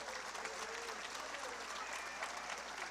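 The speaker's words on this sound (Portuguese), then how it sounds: "aplauda Jesus por isso." Congregation applauding in a church service, a dense steady wash of many hands clapping throughout, with some voices mixed underneath.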